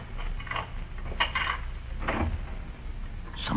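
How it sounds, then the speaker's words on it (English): Door opening in an old-time radio detective drama, a few soft wooden knocks and creaks at moderate distance over a steady low background hum, no voices. "Someone's coming in the door, Mike."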